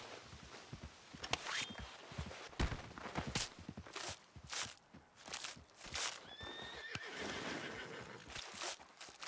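A horse in Red Dead Redemption 2 whinnies and snorts nervously while shifting its hooves, with several sharp neighs and clopping steps spread through the clip beside a bear carcass out in the wilderness.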